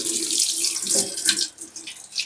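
Tap water runs into a sink as raw chicken is rinsed for a grilled dish, a close, continuous splashing stream that briefly thins toward the end.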